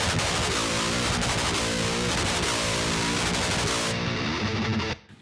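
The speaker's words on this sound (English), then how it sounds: "If you listen the left guitar alone, without the IR, it sounds like this." Downtuned electric guitar recorded as a direct amp signal without an impulse response, chugging dense, harsh, fizzy rhythm riffs at high level before cutting off abruptly near the end.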